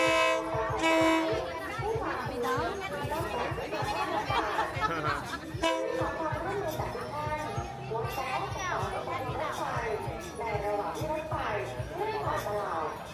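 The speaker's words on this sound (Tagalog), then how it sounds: "kapag dumarating ang tren." A train pulling into Maeklong Railway Market in Bangkok, its horn and rolling rumble running steadily under crowd chatter and narration throughout.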